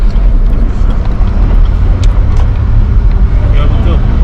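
A Cadillac with the inner front fender rubbing the tire drives along, its engine a steady loud low rumble with road noise filling the cabin, and a voice speaks over it.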